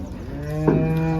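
A single long, deep cow moo at a cattle market, loud and close, holding steady for over a second.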